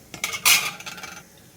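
A spoon clinks and scrapes against a metal pan while urad dal is stirred, giving a few quick, close metallic knocks followed by a softer scrape that fades out.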